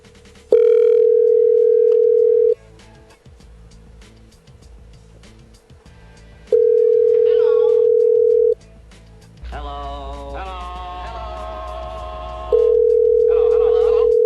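A telephone ringback tone repeating unanswered, steady two-second bursts separated by long gaps, heard over a phone line, with other voices and sounds between the rings.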